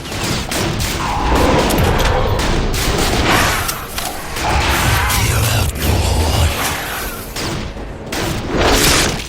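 Gunfire and explosions from the video game The Darkness fill a loud, dense mix of rapid shots, blasts and rumbling booms, sustained throughout without clear talk.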